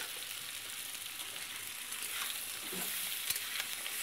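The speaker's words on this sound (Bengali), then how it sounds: "দিয়ে একটু বেশ লাল লাল করে ভেজে নেব" Young jackfruit with turmeric frying in a pan for a vegetarian dish, giving off a steady, soft sizzle with faint occasional scrapes.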